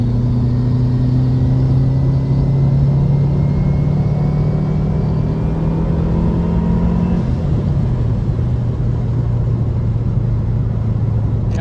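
Engine of a high-mileage Subaru WRX bugeye with a stock downpipe, revving steadily to full throttle: a loud, close, continuous rumble whose pitch climbs, then drops briefly and settles near the end, with no talking.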